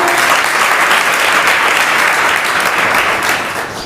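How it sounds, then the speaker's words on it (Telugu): A church congregation applauds loudly and continuously, a dense wash of clapping from a large crowd that holds steady before tapering slightly toward the end. "గట్టిగా చప్పట్లు కొడదామా?"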